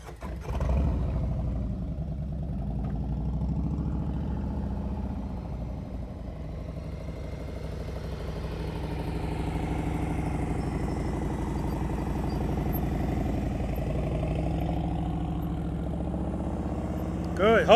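A motorcycle engine runs at slow speed during a riding practice session, a steady low droning rumble that holds close and even, with a slight rise in revs near the end.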